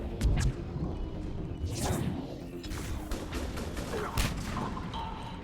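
Pistol shots ring out in the sci-fi shooter Mass Effect 3, several sharp cracks scattered across the stretch amid impacts, whooshes and a busy combat backdrop at moderate loudness.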